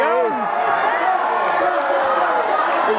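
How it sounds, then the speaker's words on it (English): A wrestling arena crowd keeps up a dense, continuous roar of chanting and cheering, with voices blending throughout. "we can hear the crowd here chanting to attack"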